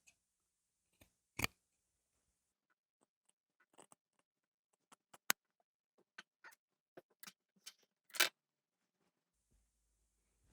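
Scissors snip coat lining fabric near a seam, producing sparse, sharp, quiet clicks and short cuts scattered irregularly over a near-silent background.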